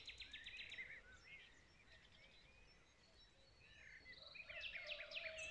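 Birds sing at a campsite by the Vulcanii Noroioși mud volcanoes, a quiet outdoor chorus of chirps and trills in bursts, some near and some farther off, over soft background hiss.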